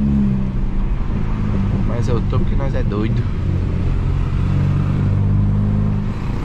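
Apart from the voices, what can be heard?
VW Jetta TSI stage 2 engine revving while accelerating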